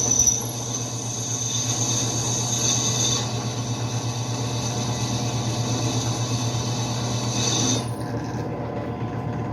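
A bench drill press, model FG009, bores through a 2 mm metal sheet with a steady grinding, scraping whir under a constant motor hum, stopping near the end.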